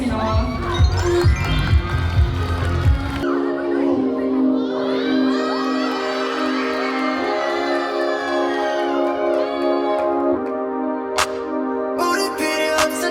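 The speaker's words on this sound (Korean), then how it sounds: "큰 박수와 호흡으로 맞이하겠습니다" A crowd at a school event cheers and shouts loudly for about three seconds to welcome a performance by graduates, then music with singing takes over.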